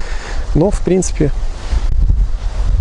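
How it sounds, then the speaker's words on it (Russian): Strong wind roars and buffets the microphone on a small house roof under construction while someone speaks briefly. "Ветер, правда, очень сильно тут все срывает."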